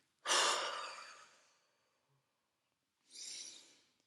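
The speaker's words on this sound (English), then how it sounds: "Lamaze did a wonderful thing, cleansing breath." A deep cleansing breath taken during labour in the Lamaze method: a long, loud airy exhale trailing off over a second or so, then a shorter second breath after a pause, close and alone.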